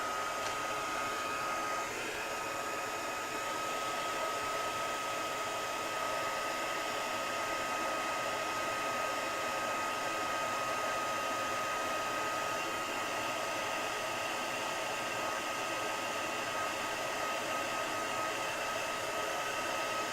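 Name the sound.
heat gun drying watercolor paint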